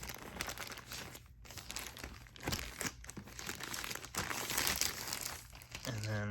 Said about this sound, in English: So it's wrapped in plastic. So we'll open that.